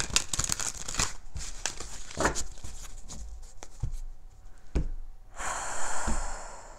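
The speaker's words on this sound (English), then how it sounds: "Two of Cups as I cut the deck and the Magician." A Santa Muerte tarot deck is cut and handled up close, producing crisp papery crinkles, riffles and soft slaps over a constant breathy hiss, ending in a louder rush of card noise.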